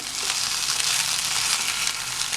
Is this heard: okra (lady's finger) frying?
yes